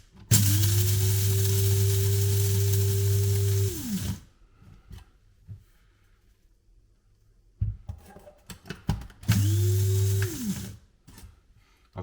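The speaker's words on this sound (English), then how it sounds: "So we'll get these into the grinder and give it a go." Electric coffee grinder whirring loudly as it grinds coffee beans, one steady run of a few seconds, then handling clatter, then a second shorter burst.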